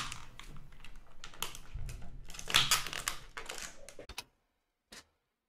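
A computer keyboard pounded in gamer rage: rapid, hard clattering keystrokes in a dense burst for about four seconds, then silence broken by one last isolated tap.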